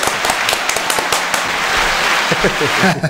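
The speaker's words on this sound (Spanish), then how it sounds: "¡Aplausos! ¡Aplausos!" An audience claps loudly and steadily through a live talk event, a dense, close wash of many hands applauding with crackling bursts.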